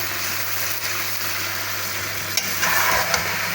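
Onions for chicken biryani fry over a high flame, giving a dense, steady sizzle close up with a low hum beneath and a few faint clinks near the end, no one speaking.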